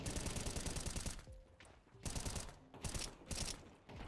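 Video game gunfire crackles in rapid automatic bursts, a few sustained volleys broken by short pauses, loud and close with no talking over it.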